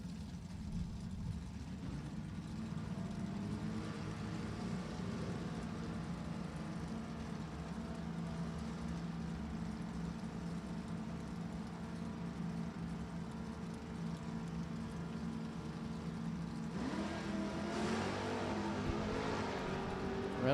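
A D-Stock automatic Pontiac Trans Am and an Oldsmobile Cutlass wait for an NHRA drag race at Virginia Motorsports Park. Their engines make a steady, distant, rumbling drone that holds for a long time and swells slightly near the end.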